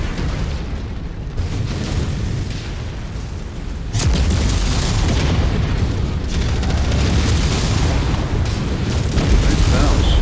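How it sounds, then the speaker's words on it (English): Missile explosions in a combat video game roar as dense, sustained booming blasts, with a sharp heavier impact about four seconds in followed by continuous rumbling detonations. "Get them missiles off of me."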